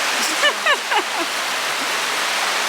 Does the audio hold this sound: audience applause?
no